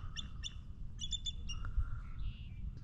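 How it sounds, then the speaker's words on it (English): Several high, thin chirps from a bald eagle ring out in quick clusters over Mattawoman Creek, moderately distant, set against a constant low engine or wind rumble. "bald eagles did not make the sound of a scream. They kind of chirp like that."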